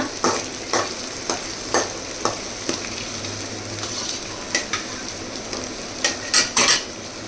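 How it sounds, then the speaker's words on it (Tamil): Curry leaves sautéing in oil in a pan for chicken gravy, a loud continuous sizzle broken by repeated sharp spoon clanks and scrapes against the pan. "அப்புறம் கொஞ்சம் கருவேப்பிலை போட்டுக்கோங்க. போட்டுக்கலாம். போட்டதுக்கப்புறம் கொஞ்சம் நல்லா வதக்கி விட்டுக்கோங்க."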